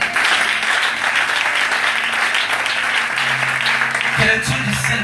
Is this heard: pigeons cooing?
no